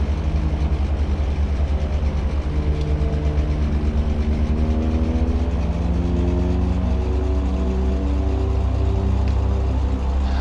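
Twin piston engines of a Beech Duke aircraft in X-Plane 10.5, a steady loud droning hum with rising and falling harmonic tones as the engines rev during taxiing, continuous throughout with no talk.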